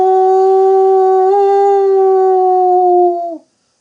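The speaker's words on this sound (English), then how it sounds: "The wolves howled." A wolf howls in a dark forest: one long, sustained, clear tonal howl, close and loud, holding a steady pitch with a slight lift partway through before tailing off and cutting to silence.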